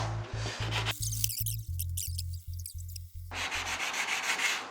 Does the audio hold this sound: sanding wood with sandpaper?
yes